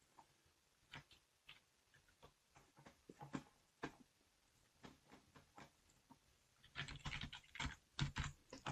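Someone types a password on a computer keyboard with quiet, close, irregular key taps that quicken into a denser burst of clicks toward the end, with no voices.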